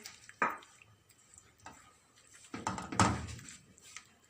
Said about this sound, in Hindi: अच्छे से इसको मिक्स कर लेंगे।